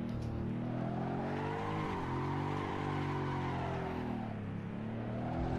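A BMW drifts on overheated tyres around a castle course in Scotland in Assetto Corsa, a racing game. The engine drones loudly and continuously, rising and falling, with a faint tyre squeal mixed in.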